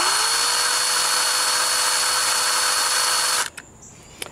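A power drill bores steadily into the broken turn signal lever of a Jeep Wrangler YJ, its high whine loud and continuous for about three and a half seconds before cutting off abruptly into near silence.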